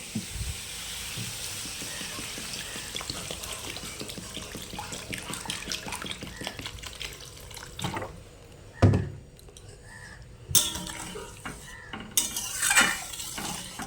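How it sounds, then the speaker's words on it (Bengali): Water is poured into a pan of frying potato and eggplant, bringing a rushing hiss and bubbling after the steady sizzle, with clinks of a utensil against the pan and a few louder bursts near the end. "এখন আমি জল দিয়ে দেবো"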